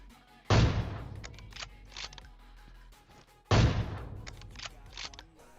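Gunfire in a battle royale video game comes as two sharp loud bursts about three seconds apart, each followed by scattered fainter shots and echoes.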